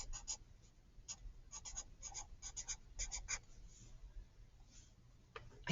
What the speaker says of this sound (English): I'm going to write that down underneath this.